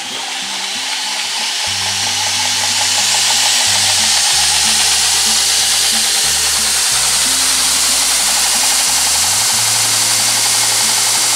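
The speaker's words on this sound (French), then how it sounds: "on va voir que c'est un moteur 2 chevaux. À 2800 tours minute, ça reste relativement silencieux." A 2-horsepower belt grinder motor running at 2800 rpm runs loudly and steadily throughout, a dense continuous whir with a low hum that shifts pitch slightly a few times.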